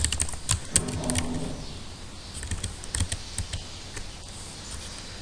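Rapid, irregular keystrokes on a computer keyboard while building a web page layout, close and steady with brief pauses between bursts of clicks.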